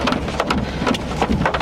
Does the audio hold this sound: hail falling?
yes